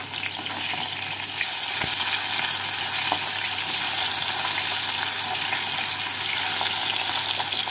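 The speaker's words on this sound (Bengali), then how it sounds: "মাছগুলো ভাজা হয়ে গেছে, এবার তুলে নেব।" Fish fry in hot mustard oil in a pan, giving a loud, continuous sizzle with a few sharp clicks as pieces are turned, no voices.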